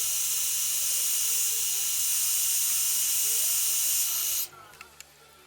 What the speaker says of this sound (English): Time to use the heat gun for shrinking